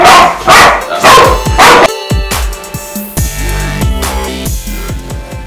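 A German Shepherd barks loudly and close in a burst of several sharp woofs, followed by lighter yips and whimpering sounds, with no talking.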